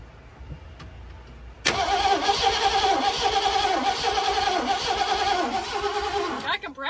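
Car engine cranking over with its starter solenoid bypassed, then catching and running loud and close with a rough, uneven revving after a quiet lead-in; people talk over it.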